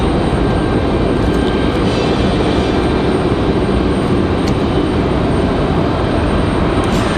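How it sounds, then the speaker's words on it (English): Spirit Airlines jet in Skittles livery departing Raleigh-Durham for Newark, a steady loud engine roar filling the whole stretch without a break or any voices. "So Spirit in the Skittles livery, they're headed to Newark, New Jersey"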